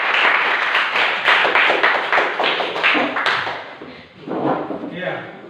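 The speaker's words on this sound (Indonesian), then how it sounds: "Tepuk tangan untuk kelompok 2." Classroom applause for a student group, a dense burst of hand clapping that fades after a few seconds, close and fairly loud with voices mixed in.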